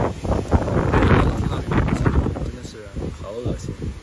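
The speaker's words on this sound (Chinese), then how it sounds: "今天恰好碰到特别恶心的大风天气啊，其实是晴天，但就是这个风。" Strong gusting wind buffets the microphone at the base camp of Haba Snow Mountain, around 4000 metres, on a sunny day, a loud continuous roar with short bursts of voices mixed in.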